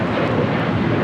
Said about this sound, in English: This is Alaska Airlines 1418 taking off to Guadalajara on a 737-900ER.